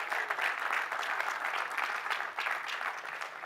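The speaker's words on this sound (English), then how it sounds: "A round of applause" Audience applause at a COP28 hangout event in Dubai, with steady, even clapping from a crowd that holds at a moderate level without pause.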